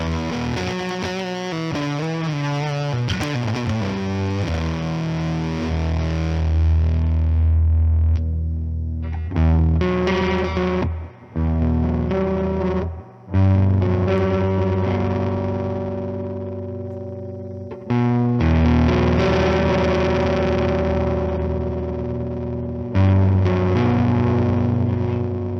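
Electric guitar on the neck pickup through an EHX Percolator fuzz pedal, loud and thick with sustained distorted chords and notes, a few brief stops between phrases, no voices.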